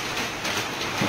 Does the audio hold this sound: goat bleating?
no